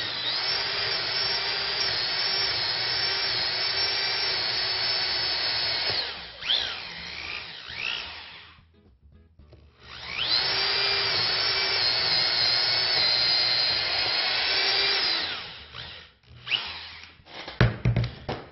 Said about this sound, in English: Look at the drill bit, make sure that it's pretty square to the right angles to the wood